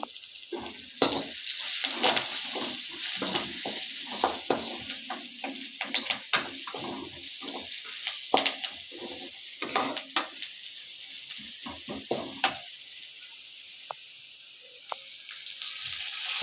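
Onion, garlic and asafoetida sautéing in oil for a Tamil greens dish, a loud steady sizzle close by with repeated scraping stirs of a spoon against the pan, easing toward the end.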